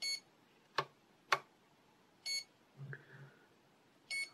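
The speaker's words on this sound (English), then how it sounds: "The beeping there indicates that the throttle cut is in action." Several short electronic beeps from a Radiolink AT10II RC transmitter's throttle cut warning ring out at irregular intervals, clear and close, with a softer two-tone blip in between against a quiet background.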